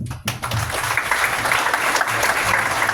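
An audience at a tech showcase event breaks into steady applause, a dense patter of clapping that builds quickly and holds at a fairly loud level throughout.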